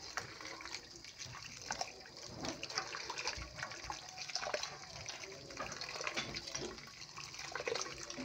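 Leftover cooked rice close to spoiling is washed in water: continuous sloshing, swishing and trickling, fairly close and steady throughout, with no clear talking.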